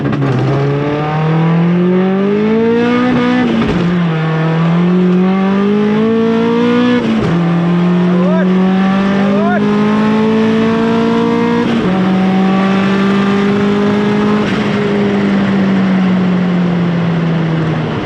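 A turbocharged E30 race car of about 300 kW drones loudly at a Killarney drag-racing event, its engine tone holding and climbing through several gear steps over a continuous, close roar.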